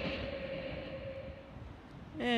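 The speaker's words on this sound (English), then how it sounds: "And a VSET passing platform number 1." An electric passenger train, a four-car V-set, passes a station platform with a steady close rumble and a faint whining tone, rising slightly at the end.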